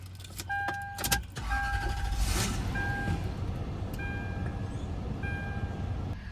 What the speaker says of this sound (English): So let's go ahead and start it up and see if it runs any different.